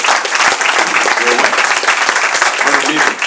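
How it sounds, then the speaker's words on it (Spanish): Church congregation applauding after a prayer, loud continuous clapping from many people with voices mixed in beneath it throughout. "Le puede dar un aplauso al Rey por la vida."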